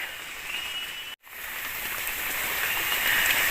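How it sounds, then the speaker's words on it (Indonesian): Heavy rain hissing down on surfaces at a forest treehouse, a continuous wash of patter that cuts out for a split second, then returns slightly heavier. "Hujan guys,"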